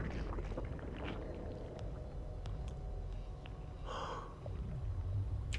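A Zerg Overlord in StarCraft breathes in a soft, hollow, airy rhythm, low breaths rising and falling over a steady windy hum, with one brighter gasp-like swell near the end.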